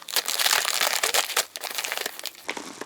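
Thin paper parcel of books from Casterman, posted from Belgium, being torn and opened: dense, close crinkling and crumpling of paper and packaging, continuous and busy for the first second and a half, then sparser rustles and tears.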